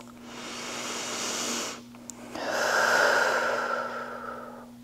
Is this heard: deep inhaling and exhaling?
yes